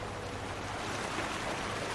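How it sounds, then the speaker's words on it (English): Rushing water like a waterfall sounds in Farming Simulator 19 on the Kiwi Farm map, a steady broadband wash of splashing, close and unbroken, with no voices. "It's like there's a waterfall in this field."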